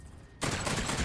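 A sudden loud burst of gunfire in Call of Duty Zombies on the Shaolin Shuffle map, cutting in sharply after a quieter moment and continuing as a dense, sustained rattle of shots.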